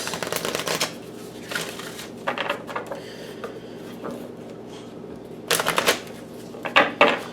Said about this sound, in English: Alright, so we got the tarot cards shuffled.